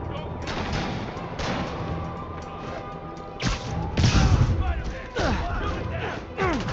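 Convicts firing sniper rifles in a Spider-Man video game, sharp booming shots with whip-like cracks amid game noise, several reports spaced a second or so apart.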